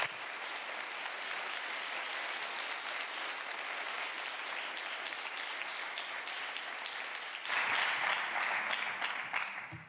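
A crowd of delegates claps steadily at a model UN opening ceremony, a dense, even wash of applause that swells louder for the last couple of seconds before ending abruptly.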